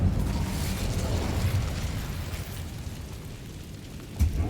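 An Incendio fire spell cast in a Harry Potter game set at Hogwarts, heard as a steady, rushing burst of roaring flame and crackle that holds for several seconds, with a short pop near the end.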